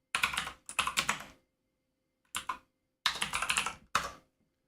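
Clusters of quick keystrokes on a computer keyboard come in short separate bursts with silent pauses between, close and clear.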